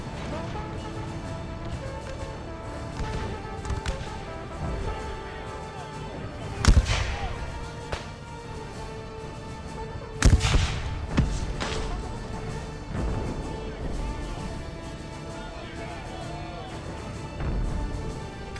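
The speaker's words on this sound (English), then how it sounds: "Got ourselves a little gunfight, we do." Musket volleys crack across a Napoleon: Total War battlefield during an American Civil War mod fight, with two heavier bursts standing out over a steady rumble of distant firing and a commentator talking throughout.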